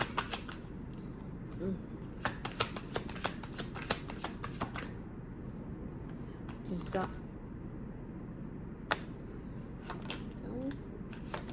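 A deck of tarot cards is shuffled in repeated quick riffling bursts with short pauses between them, close and fairly soft.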